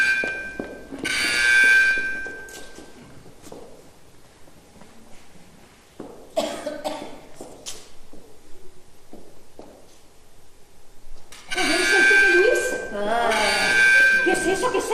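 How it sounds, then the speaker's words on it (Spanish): A mother's call bell rings out in bright, sustained bursts in a stage play, with one ring near the start and another toward the end. Footsteps, thumps and talk fill the gap between the rings. "El timbre de mamá."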